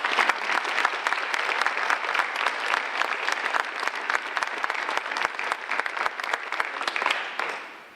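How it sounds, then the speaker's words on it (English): An audience at a school board meeting claps for the evening's honorees, a dense, sustained round of applause from a roomful of people that carries steadily before tapering off at the end. "Let's give one more round of applause to all of tonight's honorees."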